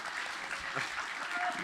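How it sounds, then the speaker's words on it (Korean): An audience at a demo day presentation gives a soft, steady patter of applause, fairly distant and faint, with a voice speaking over it. "박수 쳐주셔서 감사합니다."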